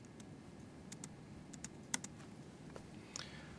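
Computer keyboard keys are pressed in scattered, quiet taps and clicks at close range over a steady background hiss, with no talking.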